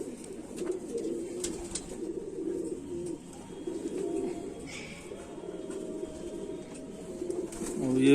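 Soft, repeated cooing from Kamagar pigeons in a loft, low murmuring calls overlapping at a moderate distance with no clear talk.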